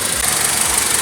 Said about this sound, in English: It's barely vibrating. That's typical with these engines.